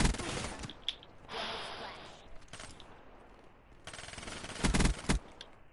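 Gunfire in Call of Duty Black Ops 3 online multiplayer on PS4: bursts of rapid automatic shots and scattered single cracks, loud and close, with a player talking over parts of it.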